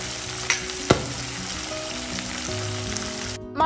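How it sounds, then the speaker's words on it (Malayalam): Whole chillies frying in oil for pickle, a strong continuous sizzle with two sharp stirring knocks early on and a steady hum beneath, close and even until it cuts off near the end. "മുളക് എണ്ണയിൽ നന്നായിട്ട് മൂത്ത് വരുന്ന സമയത്ത്"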